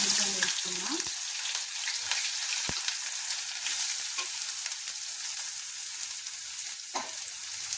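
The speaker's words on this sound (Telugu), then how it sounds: "నూనె వేడిగా ఉల్లిపాయలు వేసుకున్నా." Sliced onions frying in hot oil for an Andhra-style egg dish, a continuous bright sizzle with occasional spoon stirs and clinks, close and steady with no talking.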